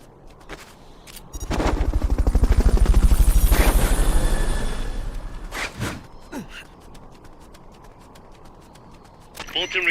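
A Fulton recovery helicopter from the video game Metal Gear Solid Peace Walker roars loudly past, its rotor thumping rapidly for a few seconds before fading. Short gunshot-like cracks come before and after it.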